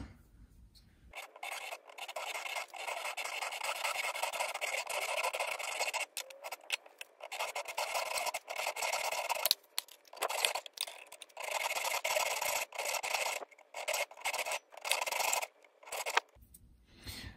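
Soft aluminum BMW fuel filter clamped in a vise is cut by hand in bursts of rhythmic rasping strokes, close and fairly loud, with short pauses as the part is rotated between cuts.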